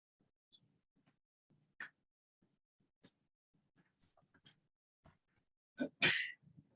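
A single sharp sneeze bursts out near the end, loud and close, after a quiet stretch of faint scattered small noises during a council meeting.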